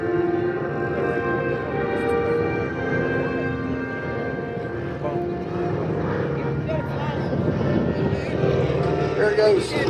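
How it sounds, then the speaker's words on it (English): A C-45 propeller plane drones past at an airshow with a steady engine hum, with a commentator talking over it through much of the pass. "There goes Colonel Joe Gammersfelter in the C-45."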